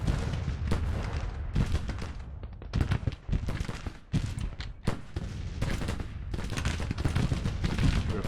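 Troops firing in the Civil War video game Grand Tactician, with repeated loud musket volleys and rolling gunfire cracking in dense bursts throughout, some shots near and others more distant.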